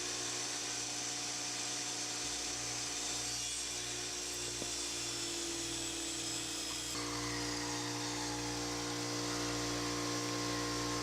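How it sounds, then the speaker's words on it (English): Power saw tilted to 45 degrees ripping a board in half for a cleat, a loud continuous motor whine with a rough cutting drone that shifts pitch midway, no talk. "just turn your saw to 45 degrees and cut a board in half"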